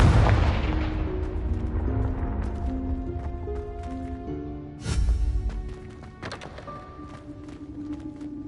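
A Confringo spell blast booms in the Hogwarts video game, a heavy impact followed by a long, rumbling decay and a second sharp burst midway.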